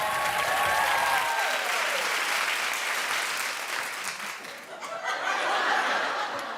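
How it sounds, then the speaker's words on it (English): Studio audience on a daytime talk show bursts into steady, loud applause that fills the room continuously, with scattered chuckles and laughter mixed in, swelling again toward the end. "you all started clapping"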